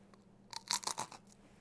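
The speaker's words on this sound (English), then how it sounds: "You get crunchy little pieces of brownie brittle." Crunchy pieces of dehydrated vegan brownie brittle being broken or bitten, a short quiet burst of several crisp crackles and snaps lasting under a second.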